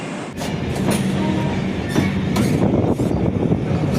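A passenger train rumbles steadily at Dariyabad station in India, with clattering rail noise and occasional sharp metallic clanks, loud and close.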